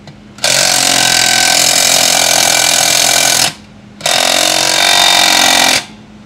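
An impact wrench rattles loudly against a stubborn, galled nut on a dirt drag race car, two sustained close bursts of about three and two seconds separated by a short pause.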